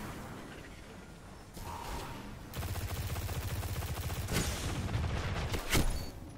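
Rapid gunfire crackles through a Destiny control match, a dense rattling stream of shots with a few sharper blasts standing out near the end, close and loud.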